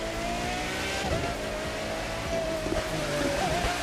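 A Pagani Zonda R race car engine in The Crew 2 video game screams at high revs, with rising and falling pitch as it accelerates and shifts, plus a brief tire squeal, loud and up front.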